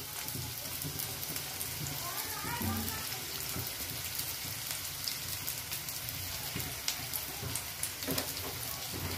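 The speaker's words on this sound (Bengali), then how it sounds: "তেলটা গরম হয়ে যাওয়ার পর এর মধ্যে দিয়ে দিলাম 1 কাপ পরিমাণ পেঁয়াজ কুচি।" A cup of chopped onion dropped into hot oil for an egg recipe crackles and sputters steadily, like light rain, with a voice talking over it.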